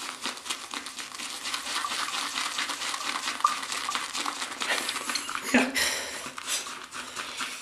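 Shaving brush lathering Arko soap in a scuttle, pumped up and down and swirled round: a steady wet, crackly swishing that runs continuously at close range, with one brief knock partway through.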